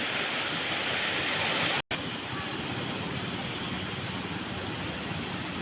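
Big sea waves rush around a moving boat in rough water, a loud continuous broadband roar of surf and spray, briefly cut by a short dropout and then resuming at a steady level.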